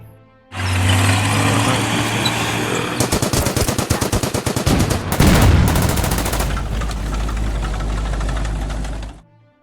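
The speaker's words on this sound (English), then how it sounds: "Artillery." Artillery fire in a Burma Road Rangoon battle video game crashes out in loud, rapid rhythmic bursts over a rumbling engine drone, strongest in the middle of the passage before fading out.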